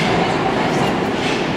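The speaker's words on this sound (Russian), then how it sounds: "когда подъезжает поезд" Loud, steady roar of a metro train pulling into a station, with a continuous broadband rumble and rail noise filling the whole stretch and faint talk underneath.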